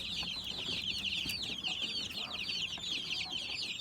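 Mixed-breed chickens cluck steadily while colorful young chicks cheep in a dense, continuous high chorus, close and lively throughout.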